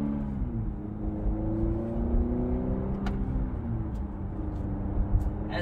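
A car in sport mode pulls away, its exhaust note rising steadily through the gears, heard fairly quietly from inside the cabin with no talking.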